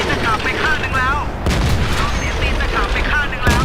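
Tank cannon fire in World of Tanks during a football battle mode, two heavy booming shots over dense game noise, with a voice commentating throughout.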